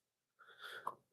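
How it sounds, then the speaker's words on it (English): A single short sneeze, faint and distant, picked up during a live fishing show broadcast, a quick breathy burst with a sharp peak lasting under a second. "Was that a sneeze?"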